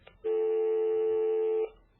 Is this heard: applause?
no